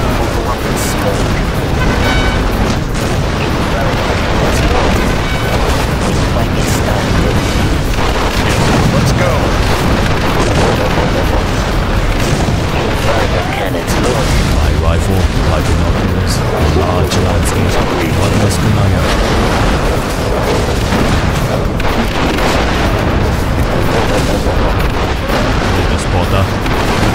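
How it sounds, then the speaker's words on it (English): Inferno cannon artillery in the C&C Generals Zero Hour strategy game fires a dense, continuous barrage of loud booms and explosions that roll on without pause for the whole stretch, with a voice briefly heard over the din. "Inferno cannons loaded."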